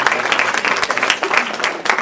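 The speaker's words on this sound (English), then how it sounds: "Let's give them one more round of applause." An audience applauds a group at a teddy bear drive presentation, a dense, steady patter of many hands clapping at moderate distance, with a faint voice now and then underneath.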